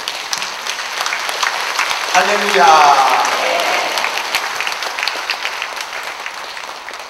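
A church congregation at an anniversary revival service in Daegu applauds steadily as the pastor comes out, sustained clapping through the whole stretch with a spoken shout partway through.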